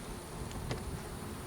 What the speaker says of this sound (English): Bees are great for the environment.